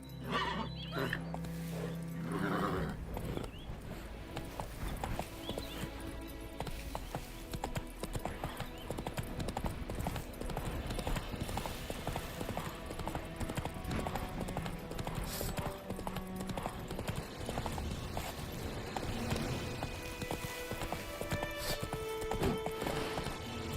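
Horse hooves clip-clopping in The Witcher 3 video game, a steady fast rhythmic patter of footfalls running throughout at moderate level, with a brief whinny-like sound near the start.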